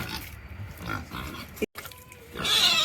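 Pig grunting in a cold farm enclosure, irregular low grunts and snorts close by, with a brief sharp knock partway through and a brighter hissing noise building near the end.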